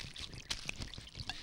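Liquor, brandy, poured out close by in a domestic indoor scene, giving a brief soft trickling splash with scattered clinks and faint rustles and no voices.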